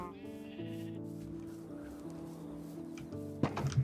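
Sheep bleating on a farm, one long wavering bleat held for several seconds at moderate volume, followed by a brief burst of other noise.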